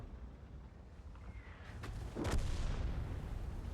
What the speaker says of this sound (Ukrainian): І нам знову арта присилає.